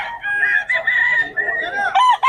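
A stag rooster, a young gamecock, crows repeatedly in a drawn-out, wavering call, loud and close, with a second crow starting near the end.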